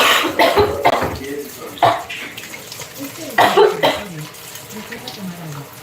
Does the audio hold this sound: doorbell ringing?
no